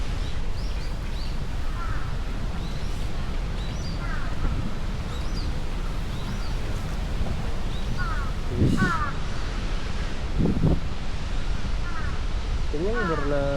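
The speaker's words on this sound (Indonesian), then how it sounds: "Ada gagak juga lagi minum." Crows caw in short bursts beside a lake in Sapporo while they drink, with a few distinct calls rising over steady outdoor background noise and a person talking throughout.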